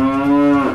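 A cow lets out a single loud, close, steady moo lasting under a second, with nothing else in the background.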